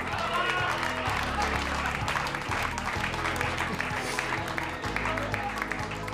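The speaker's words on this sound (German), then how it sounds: "Applaus für Dirk." Studio audience clapping on a German beer-and-quiz game show, a brisk, lively patter of hands running throughout over a low background hum, with faint voices mixed in.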